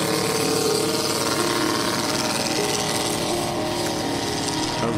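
A Ki-43 Oscar model airplane engine runs at quarter power, giving a steady, buzzing, evenly pitched drone that holds loud and constant throughout.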